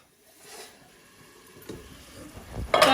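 Onions frying in a pan for a Mughlai paratha and pumpkin dish, a soft hiss and sizzle with faint stirring that swells to a louder burst of crackle near the end.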